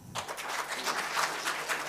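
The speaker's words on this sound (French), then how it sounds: "Applaudissez." An audience applauds at a French-language talk, a steady dense wash of clapping that starts abruptly and holds at moderate level without voices.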